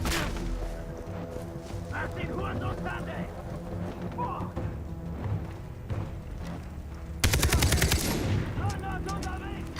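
Gunfire from the video game Far Cry 3, rapid bursts of shots layered over game music and effects, with a sharp louder volley late on, while someone talks over it.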